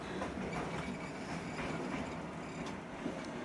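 A train rumbles past continuously with a dense rolling clatter of wheels on track, steady and fairly close throughout.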